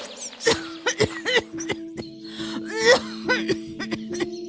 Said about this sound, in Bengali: তুমি এত কাশছো কেন?